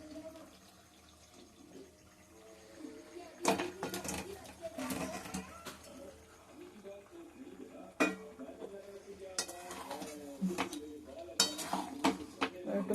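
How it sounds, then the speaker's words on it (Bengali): Potatoes and chicken tumble into a pan already holding spices, followed by scraping, clattering stirring with a utensil against metal in irregular bursts, while someone talks intermittently. "এবার আমি আলুটা চিকেনটা দিয়ে দেবো।"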